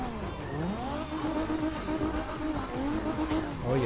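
A car in CarX Drift on a canyon road revving hard with wavering engine pitch and squealing tires during a drift, loud and continuous throughout.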